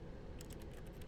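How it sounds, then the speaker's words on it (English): Keyboard typing from pressing the E key while playing The Stanley Parable: a quick run of about seven crisp key clicks in steady rhythm, close but quiet, over a low hum. "Every time I hit the E key, it makes keyboard sounds."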